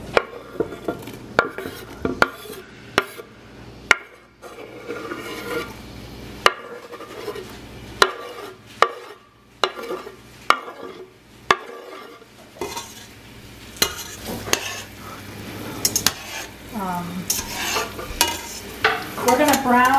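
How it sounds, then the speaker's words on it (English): Chopped onion and garlic frying in olive oil for a spaghetti sauce, with steady sizzling under repeated sharp clacks and scrapes of a utensil stirring in the pan, close and moderately loud throughout. "We're going to brown the onion and garlic."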